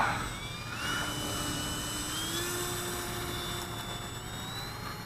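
An FMS Falcon RC model jet goes to full throttle on its maiden flight, a steady whining turbine-like ducted-fan tone with rising and falling pitch sweeps, moderately faint and continuous with some outdoor background noise.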